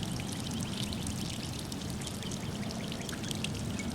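Water drains steadily from a household water heater being flushed of yellow sediment, a continuous close pouring and splashing stream with no talk.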